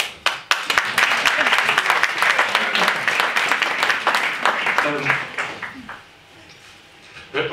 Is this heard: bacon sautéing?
no